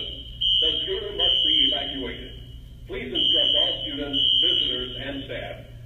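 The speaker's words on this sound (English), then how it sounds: "the fire alarm went off and it's completely dark" A school fire alarm goes off during a tornado warning, sounding repeated high-pitched electronic tones in bursts, with people talking and shouting under and between the blasts.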